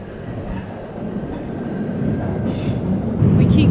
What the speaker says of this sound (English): This is at the train station.